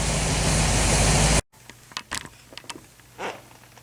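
A 1972 Corvette Stingray V8 idles after its dwell, timing and idle are set: a loud, steady close-up roar for about a second and a half, then it cuts off to near quiet with scattered small clicks and knocks.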